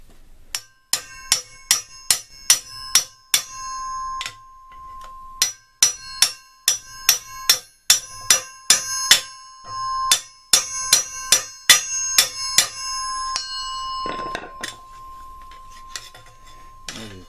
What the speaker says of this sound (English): what I got here is just a big flat chisel, and I'm going to drive it down in there and just try to break it off